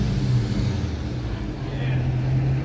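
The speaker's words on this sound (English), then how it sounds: "That guy purposely revved his engine just for the benefit of my live stream." A car on a Toronto city street on a hot Monday evening revs its engine, producing a loud, close, sustained roar that fills the whole moment with steady rumble.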